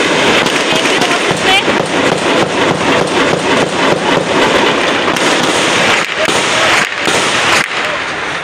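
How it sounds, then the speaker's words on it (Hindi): Explosions and sustained gunfire during a terrorist attack on the Karachi Additional IG Police office: dense, loud, rapid cracks and bursts that run almost without a break, with voices underneath. "ये दूसरा धमाका है ये तीसरा धमाका और मुस्तकिल फायरिंग चल रही है"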